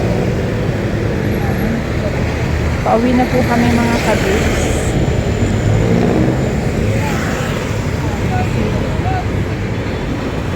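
Busy traffic on España Boulevard in Sampaloc, Manila, rumbles steadily with engines and vehicles passing nearby, a loud continuous roadway roar while someone speaks briefly over it.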